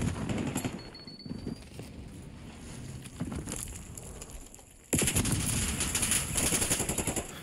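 Sustained XM4 assault rifle fire in a Call of Duty: Black Ops 6 multiplayer match, dense rapid bursts that grow noticeably louder and fuller partway through, with no talking.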